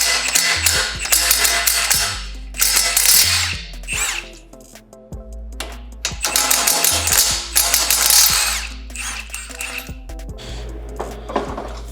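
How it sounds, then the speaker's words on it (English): Ratcheting wrench clicks and metallic clanks ring out in quick bursts while bolts on a Lexus GX460 lower control arm are loosened during a suspension install, close and busy with short pauses. "We are now releasing the bolts on the bottom of the control arm where it mounts to the brake assembly"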